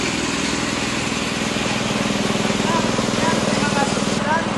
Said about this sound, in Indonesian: kita akan mengecek RPM dari kompresor tersebut